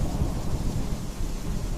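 Thunder rumbling with torrential rain pouring down, a sound effect of a violent storm with deep continuous low rumble and dense steady rain hiss, loud throughout.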